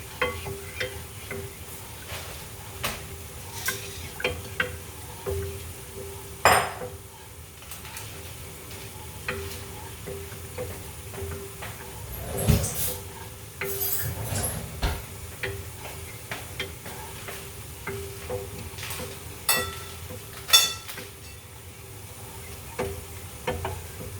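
Taho ingredients for a warm Filipino dessert of tofu and boba in brown sugar being mixed in a bowl, giving repeated light scraping and ticking clinks at an uneven pace, with no talk.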